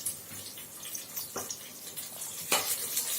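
Green chillies, dried chillies and curry leaves sautéing in a pan for dhal rice, a soft steady sizzle with light scraping and stirring clatters of a spoon, close and fairly quiet, with no talking.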